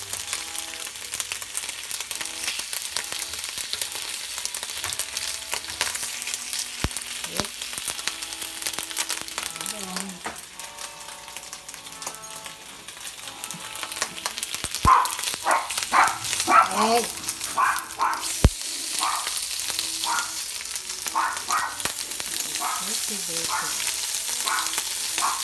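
Turkey bacon sizzles and crackles in a frying pan throughout, a steady hiss with occasional sharper pops and scrapes in the second half.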